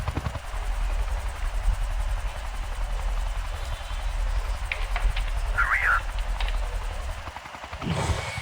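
Helicopter in the Ghost Recon Future Soldier video game, a steady low rotor drone that runs continuously and fairly loud throughout, with brief higher game effects midway.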